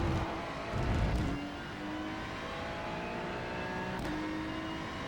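A Ferrari GT3 accelerating hard in first gear around the Mexico City circuit in iRacing, a steady rising engine whine with a brief louder burst near the start, heard from the cockpit.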